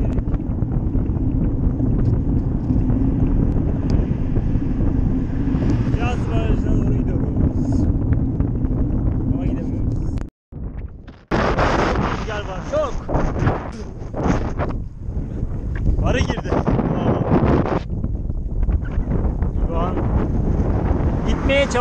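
Strong wind off a dam buffets the microphone during a cycling festival, a constant low roar dropping out briefly midway before gusting back in.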